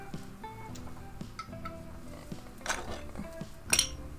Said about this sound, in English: It came with little pots and pans too.